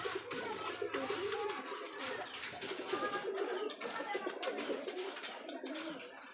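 Rajshahi Giribaz pigeons, a parent pair with their young on a pigeon farm, coo softly and steadily while people talk nearby.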